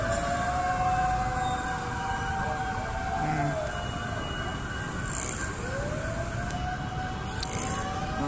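Fire truck sirens wail and sweep past during a city fire in Las Piñas, rising and falling tones heard from a rooftop over steady urban rumble, several sirens overlapping at moderate distance.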